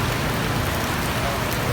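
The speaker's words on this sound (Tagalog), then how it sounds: "Umuulan naman." Steady rain pours down and patters on surfaces in a continuous, dense hiss, fairly loud and close with no break.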